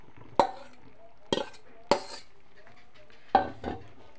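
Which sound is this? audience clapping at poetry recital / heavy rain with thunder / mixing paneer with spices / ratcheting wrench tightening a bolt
mixing paneer with spices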